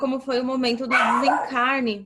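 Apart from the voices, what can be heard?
dog barking in the background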